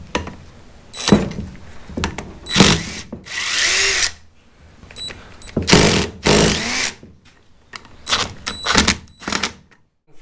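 On a Honda CB500 Four fork, a power drill drives an extractor into a rounded Allen bolt, giving short whirring bursts separated by pauses and clicks, close and loud.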